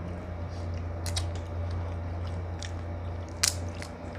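Close biting and chewing on king crab cooked in coconut milk, with soft crunchy snaps and wet squishy chews over a steady low hum, one sharper crack near the end.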